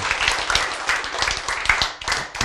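An audience at a talk claps together in dense, continuous applause made of many overlapping hand claps, moderately loud throughout.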